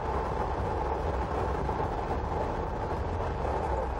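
A moving train picking up speed, heard as a loud, steady, dense rumble and roar without clear breaks, close and continuous throughout, with no talk.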